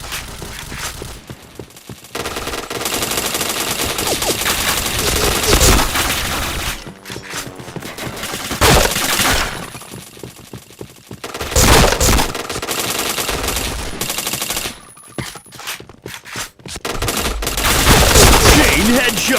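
Gunfire in the first-person shooter Point Blank, with rapid automatic bursts and single shots in loud, repeated clusters separated by short gaps, while a player talks over the action.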